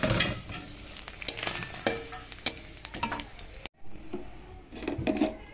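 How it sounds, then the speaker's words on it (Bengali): Whole spices and cumin sizzle in hot oil during tempering for a chickpea ghugni, a steady close frying hiss with stirring clicks, briefly dropping out before the sizzle picks up again. "বাকি মশলাগুলো দিয়ে দেবো ফোড়নে।"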